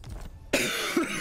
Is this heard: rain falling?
no